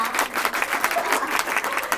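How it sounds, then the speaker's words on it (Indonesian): Applause for a podcast guest, brisk clapping from a small group with distinct rhythmic hand claps audible in the mix, lasting about two seconds without talk. "beri tepuk tangan dulu dong untuk Kamila kita"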